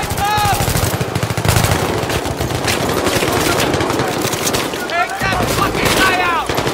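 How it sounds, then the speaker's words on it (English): Sustained automatic gunfire in the shooter game Battlefield 3, rapid loud bursts rattling continuously with a few sharper cracks, and someone talks over the shooting. "We make sure that shooting is perfect."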